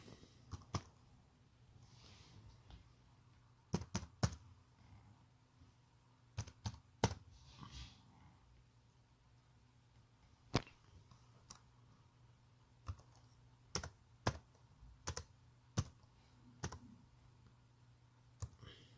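Scattered keystroke clicks on a Lenovo laptop keyboard, in short bursts with pauses between, close and fairly quiet against a faint background hum.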